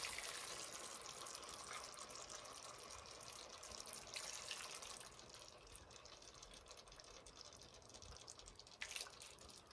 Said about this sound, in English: we're gonna cover the meat with the broth that we prepared earlier